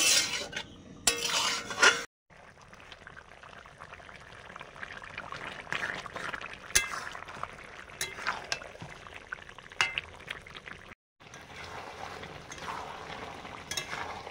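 Chicken meat is stirred and sautéed in a pot, with soft sizzling, scraping of a spoon and occasional clinks of utensils against the metal, fairly quiet and close with brief gaps.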